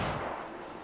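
A gunshot from the video game Cyberpunk 2077, a loud broadband burst that fills the short moment and then trails off into a dense, noisy decay.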